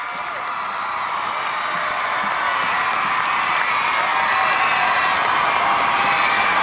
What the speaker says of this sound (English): Many of the crowd on their feet to acclaim the performance of the Malaysian team.